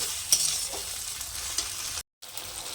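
Rui fish rezala being stirred and fried in a pan over low heat with yogurt, a soft continuous sizzle broken by a few light scraping stirs, close and fairly quiet.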